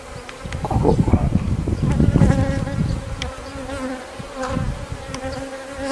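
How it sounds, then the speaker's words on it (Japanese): A honeybee swarm hums loudly around a hive during swarming season in April, a dense continuous drone of many bees close by, swelling and easing with individual insects passing near. "女王蜂が中に入っておれば"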